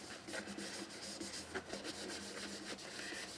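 Steady close rubbing on a Fender American Toronado guitar's wooden fingerboard as conditioner is worked in, a continuous soft scratchy friction with small uneven strokes and no talk.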